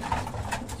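Racing pigeons kept in a loft give a short, soft, low coo, murmuring steadily close by with no voices over it.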